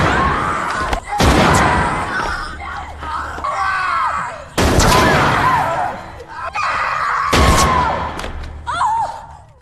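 Three sharp, loud gunshot-like bangs ring out in a film scene aboard an abandoned ship, spaced a few seconds apart, mixed with screams, groans and shouting voices.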